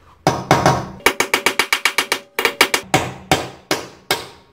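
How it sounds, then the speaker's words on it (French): Loud hammer blows strike an anti-theft wheel nut on a BMW 120D to loosen it: two opening strikes, then a fast run of about ten evenly spaced hits, a brief pause, and a slower series of heavy metallic impacts, close and without speech. "il n'y a plus qu'à essayer de taper comme un goret pour qu'il desserre"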